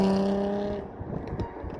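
A Jaguar F-Type V6 S convertible with a switchable exhaust roars loudly as its engine note holds a steady tone, then cuts off into crackling exhaust pops and a rough, burbling rumble.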